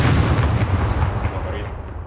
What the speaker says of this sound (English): I believe that's the grenade launchers and the grenades being played.